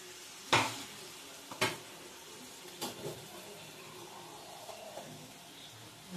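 Katla fish pieces get stirred in a frying pan for a potato and coriander-paste curry. A faint, low sizzle runs underneath several sharp metal scrapes and clanks of the spatula, spaced irregularly, close by with no talking.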